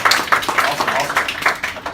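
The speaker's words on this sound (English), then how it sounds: "And so give yourselves a hand clap." An audience in a servant leadership talk claps together, with rhythmic, fairly close hand claps repeating about every quarter second.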